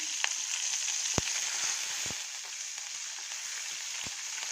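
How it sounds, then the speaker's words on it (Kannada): Three green chilies sizzle steadily in hot oil in a pan, a constant bright crackle with a few sharper pops and spatters, alone without talk. "ಇದೆಲ್ಲ ಸ್ವಲ್ಪ ಫ್ರೈ ಆಗಲಿ. ಒಂದು 3 ಹಸಿಮೆಣಸಿನ್ಕಾಯಿ ಹಾಕ್ತಾಯಿದ್ದೀನಿ"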